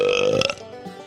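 A wet belch sound effect, one loud throaty burp lasting about half a second before tapering off into a faint gurgle.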